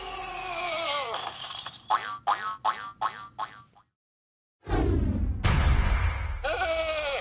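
The Sheep Creep enemy in Skylanders Trap Team bleats in a string of short, wobbly, springy calls, then goes briefly silent before a loud burst of cartoonish bleats and effects returns.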